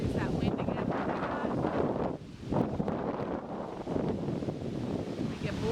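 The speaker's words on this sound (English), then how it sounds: "There's that wind again." Strong wind roars steadily across the microphone beside a suburban chicken coop, buffeting loudly with a brief lull partway through, and no other clear sounds stand out.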